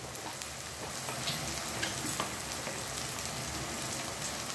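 Minced chicken keema fries with tomato ketchup in a pan, a steady close crackling hiss like light rain that stays even and unbroken, with no voices.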